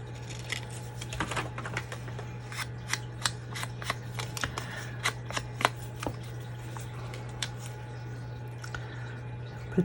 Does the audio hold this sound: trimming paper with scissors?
yes